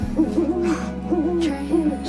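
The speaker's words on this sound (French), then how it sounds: "Une chouette, un hibou." Owl hooting in the Life Is Strange: Double Exposure video game, three or four soft tonal hoots repeating in a steady rhythm over a low ambient hum, no voices.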